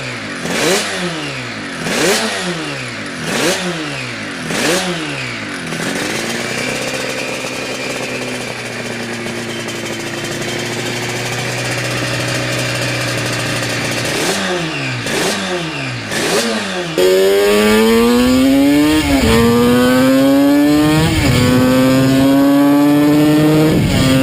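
A Bimota 500V Duo two-stroke motorcycle engine revs loud and close, with repeated sharp rising-and-falling blips, a sustained steady drone in the middle, then a harder run of climbing revs through the gears.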